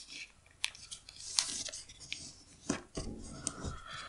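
Paper being folded and creased for a paper airplane, heard as brief, close crinkles and sliding rubs in irregular bursts over near silence.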